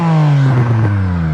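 A Tesla Model S Plaid fitted with a Borla exhaust hums loudly with a smooth, whirring electric-motor tone that rises and dips briefly, close and alone.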